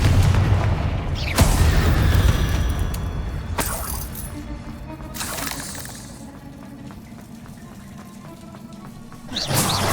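Confringo explosive blasting spells from the Hogwarts Legacy video game, several loud booming blasts with crackling bursts and rumbling tails, the last one striking sharply near the end.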